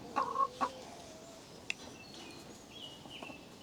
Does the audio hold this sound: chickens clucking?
yes